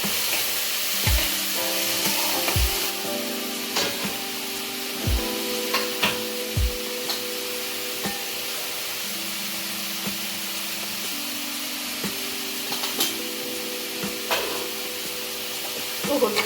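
Bitter gourd pieces fry in a pan, giving a continuous sizzle broken by a few sharp stirring knocks and scrapes, close and moderately loud.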